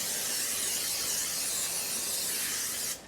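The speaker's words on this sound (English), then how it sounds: "You're going to add either some non-stick cooking spray or even some butter." Non-stick cooking spray hisses from a can into a 9x13 casserole dish in one steady, close burst that lasts about three seconds and then cuts off, with no talking.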